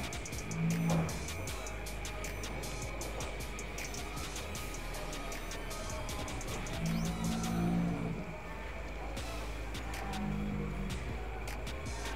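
Cattle awaiting slaughter low now and then in a transit holding pen, a few deep moos over constant clanking and background rumble.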